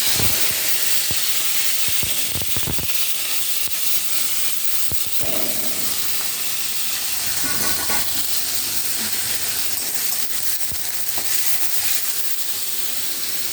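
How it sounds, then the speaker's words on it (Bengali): Onion and tomato fry in hot oil with loud, steady sizzling and hissing, continuous throughout with a few sharper crackles and spatters. "এখানে নিয়েছি পেঁয়াজ আর টমেটো, এটা তেল হয়ে গেছে, তেলের মধ্যে ছেড়ে দিচ্ছি।"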